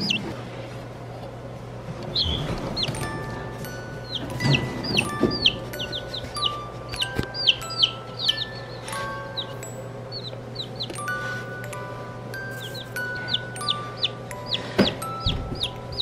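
Young New Hampshire chicks cheep and peep constantly at close range, a busy overlapping chorus of high calls with occasional soft clucks over a steady background hum.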